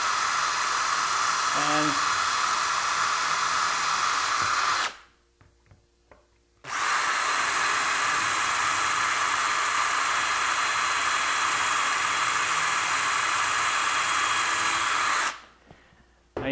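Power drill fitted with a brad point bit boring through a shelving door, two long loud steady whirring runs separated by a short quiet gap, with a brief word spoken early.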